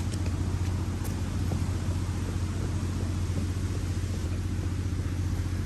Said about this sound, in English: Just ride down on a digger.